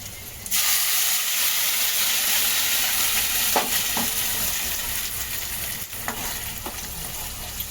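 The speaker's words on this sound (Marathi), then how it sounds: "ते भाजून घेऊया ना आता मस्तपैकी आधी" Masala paste made with garlic and roasted ground spices fries in oil in a pan, a loud steady sizzle that starts abruptly and continues for several seconds, with a few soft stirring scrapes and no talking.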